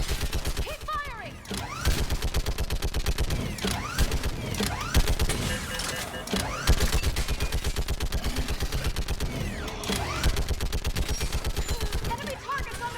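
Continuous rapid gunfire, dense bursts of shots repeating steadily throughout with mechanical clatter and occasional louder reports, close and loud.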